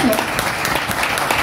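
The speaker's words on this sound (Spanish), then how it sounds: "Quiero que todos ustedes hagan un aplauso en nombre de todos estos niños" A crowd applauds children at a youth singing contest, dense clapping throughout the short burst with a voice briefly audible over it.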